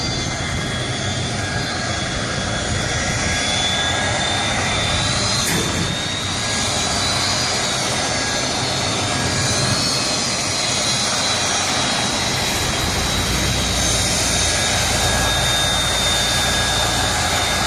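Jet aircraft turning around on a runway, a loud, steady jet engine roar with a high whine, close and continuous throughout with no voices.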